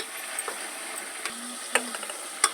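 Tomatoes frying in a pot for chicken dum biryani: a soft, fairly quiet sizzle with a few sharp stirring clicks and scrapes of the spoon, no talk.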